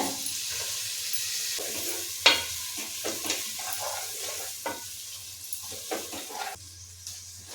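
Moong dal, rice and beans are stirred in a pan for barley khichdi, with repeated scraping strokes over a soft sizzle, close and steady with no talking.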